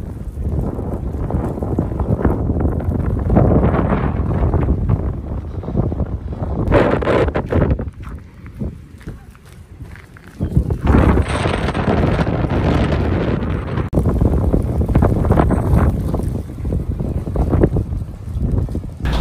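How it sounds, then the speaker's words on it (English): Chilly winter wind blowing in off a lake outdoors, roaring steadily as loud buffeting against the microphone with brief lulls and gusts throughout. "It is a chilly wind coming off of the lake"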